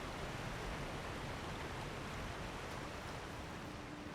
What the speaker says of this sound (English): You just want to roll off into the waterfall.